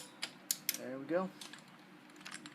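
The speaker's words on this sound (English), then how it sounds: "Let's tighten that up for good measure." A ratchet wrench tightens a crash bar clamp on a Honda CTX700N motorcycle, giving a few sharp clicks and then a short burst of rapid ratcheting, close and fairly quiet.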